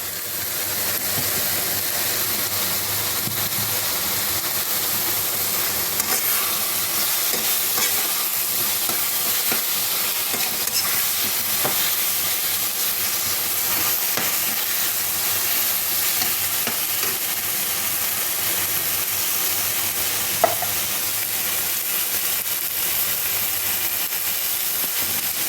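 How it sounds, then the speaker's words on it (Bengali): Pointed gourd (potol) with sugar sizzling and frying steadily in a pan, a loud continuous hiss with occasional stirring clicks and no talking. "এবার এটাকে আমি কষবো।"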